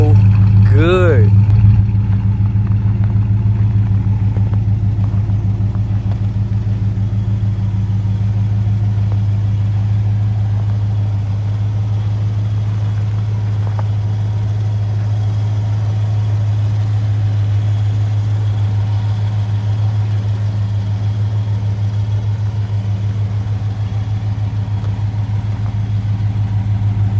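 A 1973 Buick's engine idles steadily in the snow, a constant low hum that runs unchanged throughout with a brief voice near the start.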